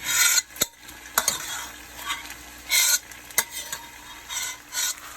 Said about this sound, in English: I'm gonna add in the rest of my pasta